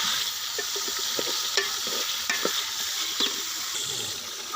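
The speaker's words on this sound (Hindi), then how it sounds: "चिकन को अच्छी तरह से भून लेंगे 5 से 10 मिनट के लिए।" Chicken sizzles and fries in a pot for Pakistani white yakhni pulao, a steady hiss broken by occasional stirring scrapes and knocks from a utensil, with no voices.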